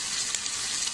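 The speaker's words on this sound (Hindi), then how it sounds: "ये हमारे वेजिटेबल्स भी थोड़े फ्राई हो गए हैं" Vegetables for a coconut milk pulao fry in a pan, producing a dense, continuous close sizzle with no talking.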